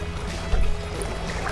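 A kayak's trolling motor runs on high, giving a steady, close whir mixed with the wash of water against the hull on a crappie fishing outing.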